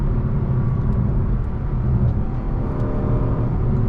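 Engine note of a 2025 Lexus LC 500 in Sport Plus, a steady loud drone with no clear individual throttle blips, heard up close from inside the car with no talking.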